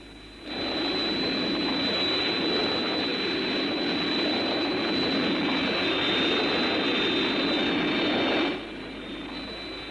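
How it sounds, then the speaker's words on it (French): A steady aircraft engine drone sits at a moderate level, rising in after a moment, holding even for about eight seconds, then cutting back to a quieter background hum in a 1960s television scene. "On dirait comme un moteur."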